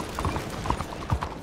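Horse hooves clip-clop at a quick, steady gait while riding through open country in Red Dead Redemption 2, the beats close and fairly loud with a faint mechanical rattle underneath.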